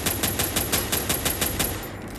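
Rapid automatic gunshots in Free Fire Max, around a dozen evenly spaced crisp cracks in a quick steady rhythm, close and loud, stopping shortly before the end.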